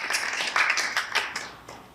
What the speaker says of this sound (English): So let's give a round of applause to our admin team.